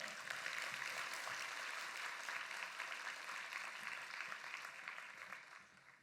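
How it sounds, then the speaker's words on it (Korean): A church congregation at a Friday prayer service claps to welcome a missionary from Albania, steady dense applause at a distance that fades slightly toward the end. "박수로 맞이하겠습니다"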